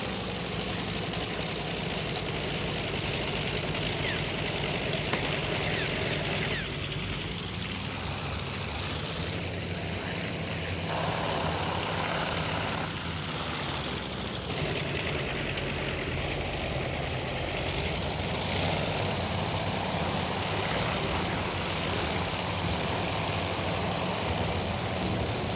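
A damaged Japanese carrier bomber engine, trailing glycol coolant in a naval air combat video game, drones continuously and close, its rough, throbbing tone shifting in pitch and texture over the whole stretch, with no voices.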